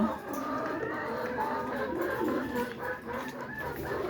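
A flock of laying hens on a poultry farm clucking continuously nearby, overlapping murmuring calls forming a steady background din.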